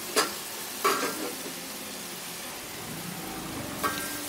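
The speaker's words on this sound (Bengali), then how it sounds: "আমটাকে একটু তেলের মধ্যে নেড়ে নেব 3 থেকে 4 মিনিট" Raw mango pieces in hot oil give off a soft, low sizzle under a lid, with three brief scraping stirs spaced through the quiet stretch.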